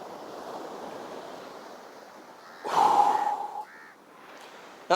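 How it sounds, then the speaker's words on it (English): A slow, deep breath pushed out close to the microphone during a squat exercise, rising into a loud, airy rush with a brief whistling edge for about a second before fading over quiet background hiss. "I exhaled coming closer to the mic because I want you to hear that"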